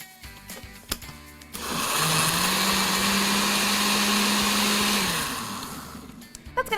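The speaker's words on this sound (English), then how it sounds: "We already have some chopped up watermelon and cucumber. We're gonna add that to our blender." A blender whirs steadily for about three seconds, blending chopped watermelon, cucumber, coconut water and lime juice, starting and stopping cleanly, close and loud.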